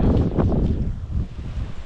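Strong coastal wind near the Twelve Apostles, Port Campbell, buffets the microphone in a continuous low roar, heaviest at first and easing slightly.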